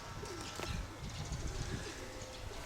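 Soft, low pigeon coos sound faintly at a distance over steady background noise.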